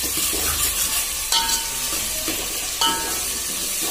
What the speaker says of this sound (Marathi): कांदा आता भाजून झालेला आहे